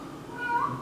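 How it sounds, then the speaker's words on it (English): A single short cat meow rises and falls in pitch, fairly close and moderately loud, over a steady background hum. "Look at the cat."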